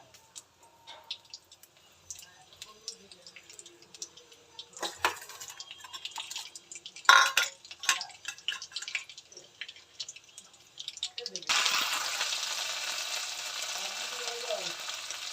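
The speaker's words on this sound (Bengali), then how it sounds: "দিয়ে দিলাম সর্ষের তেল, দিয়ে দিলাম কালো জিরে, শুকনো লঙ্কা" Nigella seeds and dried chilies fry in mustard oil with scattered crackles, pops and a few utensil clinks at first. Later a loud, dense sizzle bursts out and keeps going steadily, close by.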